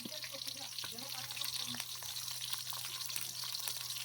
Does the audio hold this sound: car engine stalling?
no